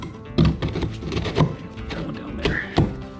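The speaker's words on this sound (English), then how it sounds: "I'm gonna throw some just scrap stone back in here to kind of clog it up" Scrap stones thrown into the gap behind a stone wood stove surround, giving a few separate hard thunks spaced about a second apart. One person says a few words.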